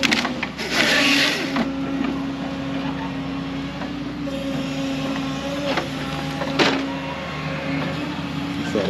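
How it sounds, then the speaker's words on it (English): Log skidder approaching through the woods: a steady, rumbling diesel engine drone that stays fairly even in loudness, with a few clanks and knocks. "Sounds like the skidder's coming."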